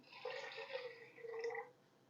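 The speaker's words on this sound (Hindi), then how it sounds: "3 कप पानी डालूँगी इसमें" Water poured from a cup into a pressure cooker holding lentils in a home kitchen, a steady close liquid stream running for about a second and a half before tapering off.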